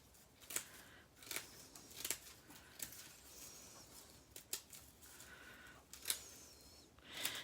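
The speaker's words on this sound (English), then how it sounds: "we're just going to go down and snip through all of these layers" Sharp scissors snip through folded layers of tissue paper for an Easter garland, a series of crisp, quiet cuts spaced out at irregular intervals, close up with no voices.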